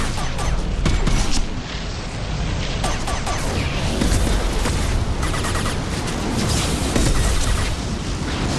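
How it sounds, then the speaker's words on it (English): A flashbang grenade blast in the video game Mass Effect 2, part of a loud, dense stretch of explosive booms and bursts of gunfire that continues without letup. "Watch out, flashbang!"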